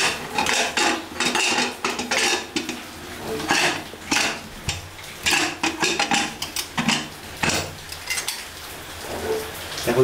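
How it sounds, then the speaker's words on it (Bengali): Metal clatter of a pressure cooker lid being fitted and locked in place, a string of close clanks and scrapes of metal on metal in irregular bursts. "এখন প্রেশার কুকারে ঢাকনি লাগিয়ে দেবো।"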